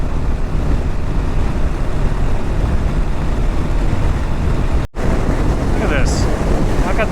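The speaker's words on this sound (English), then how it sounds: "I got it lean left into this wind. It's ridiculous." Strong gusting wind roars and buffets a microphone on a KLR 650 motorcycle being ridden leaned into the gale, a loud, continuous rushing broadband blast with one brief dropout.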